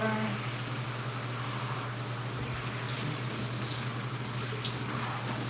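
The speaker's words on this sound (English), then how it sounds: "Turn on our water." Tap water runs steadily from a faucet at a bathroom sink during a hair-care wash-and-go routine, a continuous broadband rush with a low hum underneath, close and fairly loud throughout.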